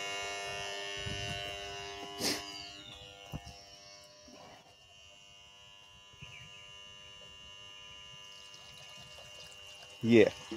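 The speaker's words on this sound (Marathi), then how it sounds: "मोटर स्टार्ट झालेलं आहे. आता बोरमध्ये पाणी येईल." A borewell's electric motor runs with a steady, droning hum while water pours out of the pipe, continuous and moderately close, with a sharper burst near the end.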